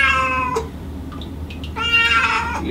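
A cat being bathed lets out two loud, drawn-out, wailing meows close by, the second longer and more strained, separated by a quiet pause with faint splashing.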